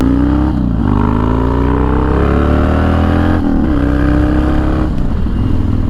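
Harley-Davidson Dyna motorcycle engine revving loudly while riding, a close, continuous rumble whose pitch climbs through several rising sweeps, each dropping back as gears shift.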